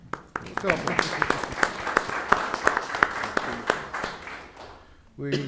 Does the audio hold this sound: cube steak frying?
no